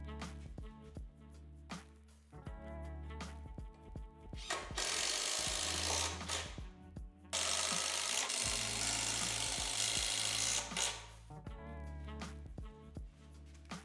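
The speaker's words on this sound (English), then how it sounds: "I'm going to use 3 100 millimeter screws into each leg to fasten this top board" A drill drives 100 mm screws through a top board into wooden table legs, sharp whirring bursts of the drill motor alternating with clicks and pauses, close and loud in a workshop.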